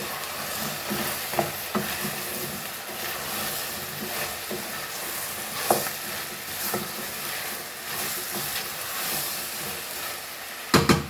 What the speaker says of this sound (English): So we will saute this for a little while, and then we'll add this tomato.